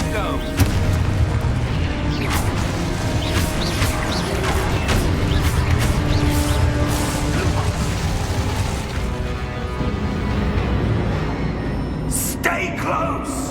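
The Confringo explosive spell in the video game Hogwarts Legacy sets off booming blasts and crashes amid dense, continuous combat noise, with voices mixed in.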